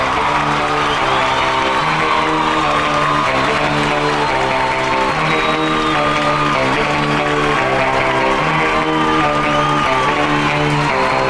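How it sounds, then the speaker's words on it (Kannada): Loud, steady applause and cheering from an awards-show audience greeting a performer's entry, with music playing under the crowd throughout. "ಕಮಾನ್, ಬರ್ಲಿ ಜೋರ್ ಚಪ್ಪಾಳೆ ಫಾರ್ ನಮ್ಮ ಪ್ರೀತಿಯ"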